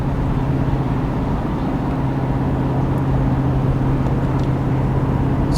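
Ford F350 with a 7.3L diesel towing a heavy trailer up a highway incline, a steady low engine drone and road rumble from inside the cab, continuous and even in level.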